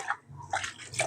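Water splashes in short irregular bursts as eight-week-old Cane Corso puppies get their first bath, close and fairly loud, with brief dripping and sloshing between splashes.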